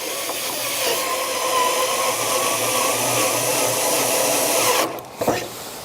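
A screwdriver drives a self-drilling screw into an aluminium pergola kit, giving a steady, close grinding whir that runs for about five seconds before stopping abruptly with a couple of short knocks.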